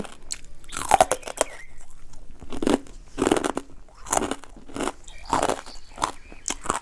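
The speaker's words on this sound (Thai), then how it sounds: "เขียบหมูก็กรอบ" Crispy pork crackling being bitten and chewed up close, a series of loud crunchy bites in bursts with pauses between, and no talking.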